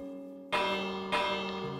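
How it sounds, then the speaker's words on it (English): A village bell in Minecraft is struck twice during a raid, two bright metallic clangs about half a second apart, each ringing on over a faint tonal background. "We ring the bell"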